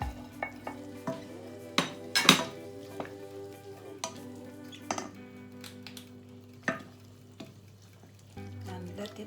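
Beans tipped into a pot of chicken vegetable soup and stirred, with scattered metallic clinks and scrapes of a utensil against the pot over a low steady simmer, one sharp clank standing out early on.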